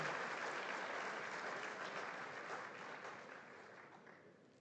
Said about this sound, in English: Can we give Beth another round of applause?